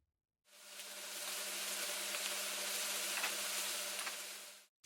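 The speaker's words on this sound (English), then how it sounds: "you can tend to your garden and listen to that sizzle" A soft, even sizzle of onions frying in a pan, a continuous crackling hiss that fades in and out, faint and close with no voices.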